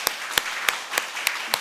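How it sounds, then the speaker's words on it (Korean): A church congregation claps in steady unison for children during a Sunday service, six crisp, evenly spaced claps about a third of a second apart, fairly close and clear. "우리 저 아이들에게 박수 한번 칠까요?"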